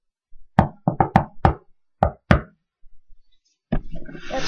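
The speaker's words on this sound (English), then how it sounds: "This is my knock or code." Knock code rapped on a door: seven sharp knuckle knocks in a quick patterned rhythm, a short pause, then more knocks, close and loud, followed by a brief noisy shuffle.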